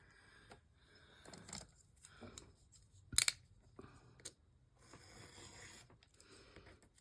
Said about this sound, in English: I'm going to trim that back to 1/4 inch